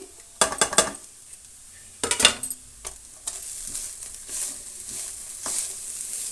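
Grated carrots for a rice bath drop into a hot pan and are stirred, giving a soft sizzle and scraping strokes. A spoon clinks against the metal pan a few times at close range.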